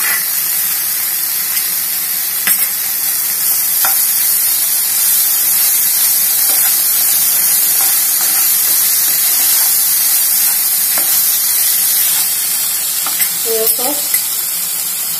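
Vegetables and paneer sautéing in a pan on the stove, giving a steady, close frying sizzle with light stirring scrapes and clicks throughout, unaccompanied by any talking.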